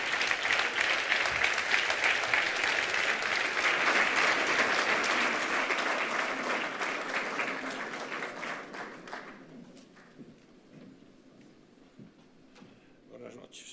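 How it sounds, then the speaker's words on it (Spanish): Loud, sustained applause from a large audience, steady for several seconds before gradually thinning out and fading to quiet scattered claps. "Les pido un fuerte aplauso para Paco Vázquez, exalcalde de La Coruña"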